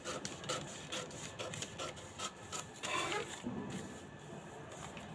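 Scissors cut through blouse fabric to make a cross strip for tailoring; quick, close snipping and rustling strokes in an irregular run, fairly faint, with no talk.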